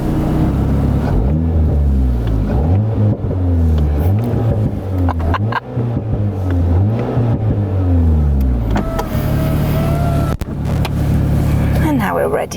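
An Alpine A110 S fires up and is blipped repeatedly, sharp rising and falling revs in a quick rhythmic pattern close by, then settling to a steadier drone; a voice speaks over part of it.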